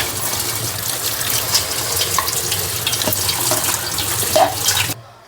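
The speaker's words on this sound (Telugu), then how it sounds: "ఇవి కూల్ వాటర్తో కడగాలి" Cool tap water pours steadily over boiled noodles being rinsed for chicken fried noodles, a loud continuous splashing gush that runs unbroken before cutting off abruptly at the end.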